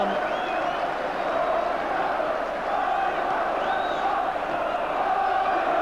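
Newcastle fans at an away football match against Rotherham keep up a dense, continuous roar of crowd chanting with a wavering sung melody, steady and loud throughout the stand.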